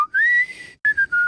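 Someone plays the short Zelda warp whistle tune on flute: a clear solo melody of a long held note, a brief pause, then a few quick notes, close and loud with no talking.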